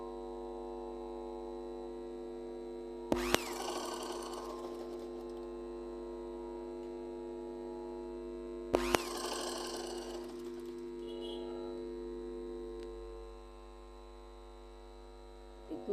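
A sewing machine stitches pleats into fabric in two short, loud bursts of rapid mechanical whirring over a constant electrical hum, each run lasting about a second before the motor stops.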